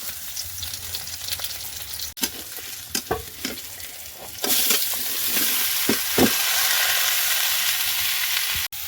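Raw doyra banana with onion, garlic, salt, turmeric and green chili sautéed in a pan, with a spatula scraping in irregular strokes over a steady sizzle that grows louder and fuller halfway through; no talking.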